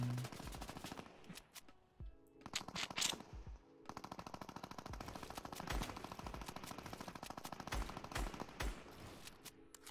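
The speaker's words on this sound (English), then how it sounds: "I don't want to get minigun sprayed." Minigun fire in an arena video game comes in long rapid bursts of automatic shots with brief gaps, dense and continuous, with no talking.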